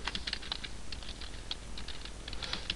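Quick bursts of clicky keystrokes on a computer keyboard while a Windows search entry is typed, light and close over a low steady hum.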